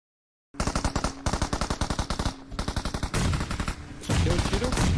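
Rapid automatic gunfire from the mobile battle royale game PUBG Mobile, loud and close, rattling in several sustained bursts with overlapping weapons and a brief pause between volleys.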